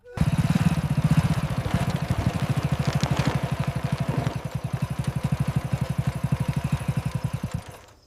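A single motorcycle idles nearby at a roadside police stop, a steady rapid chugging pulse holding even and fairly loud throughout, with a slight dip in level near the middle.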